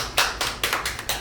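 A small group claps for a photographer at a life-school gathering, five short bursts of scattered applause with brief gaps between them, fairly near and unaccompanied by voices.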